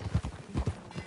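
Horse hooves clip-clopping in Red Dead Redemption 2, a quick close rhythmic series of hoofbeats over about a second.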